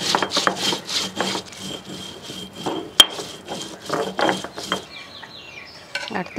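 Rasam and chutney ingredients ground by hand for a traditional clay pot lunch, a rhythmic series of rough rubbing strokes close up, followed by a sharp knock and scraping.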